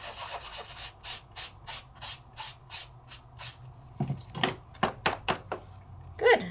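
Rhythmic rubbing strokes burnish metallic flakes onto sticky reprint paper, a regular run of about ten short scrapes followed by faster, rougher rubbing, close and alone without talk.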